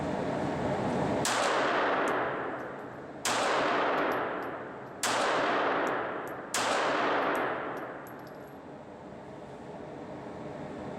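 Four loud Glock 42 pistol shots crack out at an indoor-style gun range, spaced about two seconds apart, each with a sharp attack and a long ringing decay into the room.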